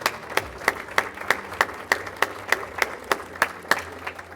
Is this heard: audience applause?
yes